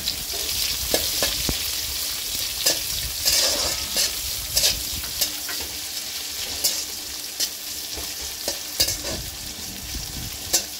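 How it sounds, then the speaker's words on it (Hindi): Onions frying with dried chillies in a pan, steady hiss of sizzling oil broken by repeated scraping stirs of a spoon against the pan. "प्याज को ब्राउन होने तक फ्राई करूंगी।"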